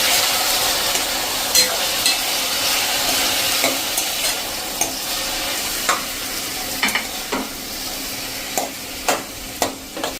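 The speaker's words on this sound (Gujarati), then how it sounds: "અને હવે જે આ દૂધી સમાયેલી છે એ નાખી અને એને આપણે હલાવી લેશું." Chopped bottle gourd stirred in a hot pan with oil and asafoetida, giving a steady broadband sizzle broken by sharp scraping clacks of the spoon at irregular intervals, close and fairly loud with no talking.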